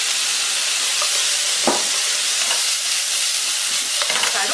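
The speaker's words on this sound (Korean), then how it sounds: "충분히 볶아주시고요" Japchae glass noodles and vegetables stir-fried in a wok for yangjangpi, with a continuous loud sizzle and hiss broken by a few brief scraping tosses and clinks, up close.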